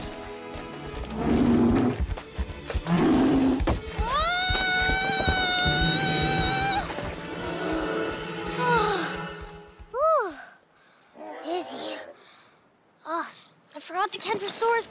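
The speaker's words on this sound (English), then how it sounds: "Roar!" A T-Rex roar in a children's dinosaur show, a loud, drawn-out wailing roar of several seconds, followed by shorter animal cries and some background voices.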